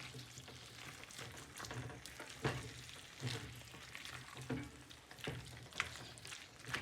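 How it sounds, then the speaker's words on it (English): Masala potatoes being stirred through sauce in a pan, with a soft steady sizzle and repeated scraping and stirring strokes, near and moderately quiet, with no talk. "Stir all the sauce into the potatoes."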